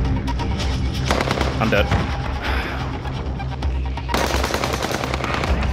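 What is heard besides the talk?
gunfire in video game Warzone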